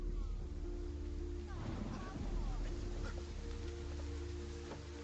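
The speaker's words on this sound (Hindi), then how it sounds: "इतनी बारिश हो रही है" Heavy rain pours steadily throughout, a dense continuous hiss and patter with a low rumble beneath, broadly even in loudness with no voices standing out.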